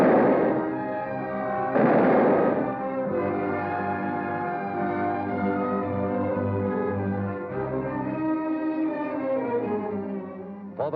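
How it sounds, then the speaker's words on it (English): Wartime battle audio of Russian tanks advancing against Nazi anti-tank guns at point-blank range: two heavy booming shots at the start, then a continuous rumble of battle noise with a dense, tonal score layered over it, loud throughout. "Russian tanks drove ahead against Nazi anti-tank guns, firing at point-blank range."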